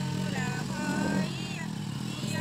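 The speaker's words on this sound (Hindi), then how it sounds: "और घर पीछे में ये जा रहे हैं बाइक से" A motorcycle rides past behind a village house in East Champaran during Bhai Dooj festivities, its engine a steady nearby drone with shifting pitch that stays fairly loud throughout.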